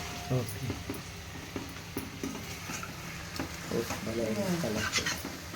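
Vegetables frying in oil and ghee with a steady low sizzle and intermittent stirring scrapes of a spoon in the pan, fairly quiet, with faint talking in the background.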